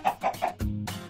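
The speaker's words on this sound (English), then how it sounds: "Here, have some chickens." Chickens cluck in a cartoon animation: a few quick, close clucks followed by a short, throatier cluck, loud and alone.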